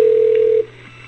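A telephone call line tone sounds as a loud steady electronic tone for about half a second, then cuts off, leaving a quiet line hum.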